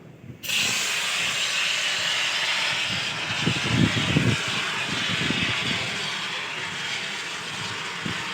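A fire extinguisher discharges in a steady, loud rushing hiss that starts abruptly and holds for several seconds, with low rumbling swells in the middle, during a fire safety training session at a mall.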